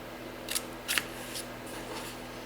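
Scissors cutting chipboard corners for a homemade recipe box, two or three short, close snips followed by fainter rustling over a low background hum.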